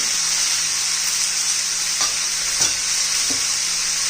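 Guar bean and pea curry sizzles steadily in a pan with turmeric and homemade masala, and a spoon scrapes through it a few times, the stirring strokes spaced a second or so apart over the hiss.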